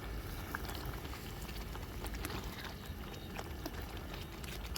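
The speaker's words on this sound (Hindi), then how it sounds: "और मटर उबल गई है अच्छे से।" Peas boil in a pot of water for matar paneer cooked outdoors at night in a field, giving a quiet, steady bubbling and fine patter that runs unbroken with no voices.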